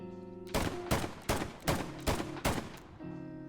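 A Webley revolver fires in the video game Hell Let Loose, five sharp, loud shots spaced roughly evenly about half a second apart, with a low mechanical hum between them.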